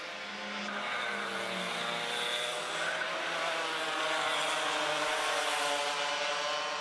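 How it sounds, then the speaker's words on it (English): Race cars roar through the final corner at Hooton Park circuit in a sustained, loud engine drone that builds slightly as they pass, with no voices over it. "Through they come around the final corner again."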